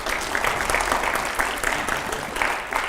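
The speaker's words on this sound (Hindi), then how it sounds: "जोरदार तालियां हो जाए जरा" Loud, dense applause from a studio audience on a televised political talk show, sustained and even across the moment without speech.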